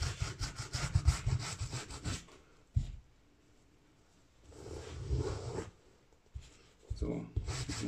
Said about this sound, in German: ihr könnt halt schön die Mitzsohle abschrubben